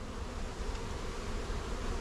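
A honeybee swarm hums densely at the entrance of a hive box after transfer from a bucket, a steady close buzzing drone with no talking.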